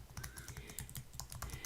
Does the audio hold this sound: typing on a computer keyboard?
yes